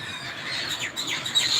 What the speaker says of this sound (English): the birds are way too loud, man